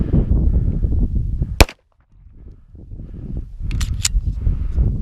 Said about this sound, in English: I'm gonna drop the mag.